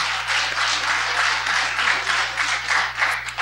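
An audience applauds at an awards ceremony in a library, with dense, steady clapping from many hands that holds at a fairly loud level throughout, and no talking over it.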